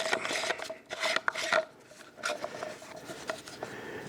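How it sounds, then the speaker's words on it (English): Wheel of a Caldwell Steady Rest NXT being screwed onto its ram, giving close, repeated rasping and scraping bursts of threads turning, with short pauses between twists and no talk. "And then you put the wheel on the ram, and it just screws on like that."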